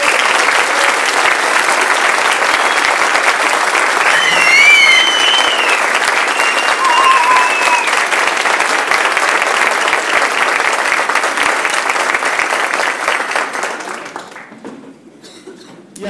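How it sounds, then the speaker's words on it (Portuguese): A TEDx Curitiba audience gives a long, loud, dense round of applause with a few cheers and whistles mixed in, holding steady for most of its length before tapering off. "Uma salva de palmas para eles."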